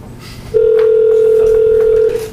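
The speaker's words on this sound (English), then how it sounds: "just hit redial, it should just do it all" A conference telephone at a park district board meeting, redialing a call, emits one loud, steady electronic tone lasting about a second and a half, preceded by a faint room murmur.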